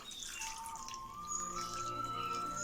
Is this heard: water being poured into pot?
yes